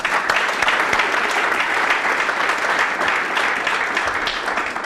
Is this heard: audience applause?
yes